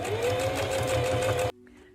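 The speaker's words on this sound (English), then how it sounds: "Let's sew. Reverse at the start and finish." A sewing machine runs at a steady, fast whirring pace while stitching a zipper travel pouch, loud and close, then stops abruptly into near silence.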